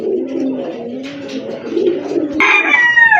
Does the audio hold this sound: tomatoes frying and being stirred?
no